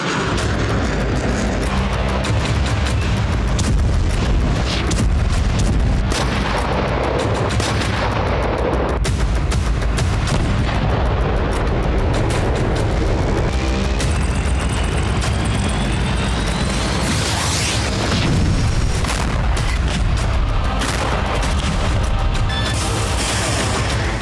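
Loud, continuous battle noise with repeated booming explosions and gunfire bursts, dense and chaotic throughout, with no talking, in wartime Kyiv, Ukraine.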